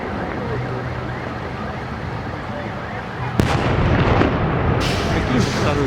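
Salute fireworks going off at a February 23 celebration in Voronezh, with a sudden loud boom partway through followed by crackling bursts over a steady background rumble while people talk nearby.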